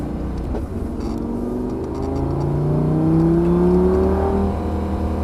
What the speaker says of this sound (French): En sortant, tu vas pouvoir accélérer.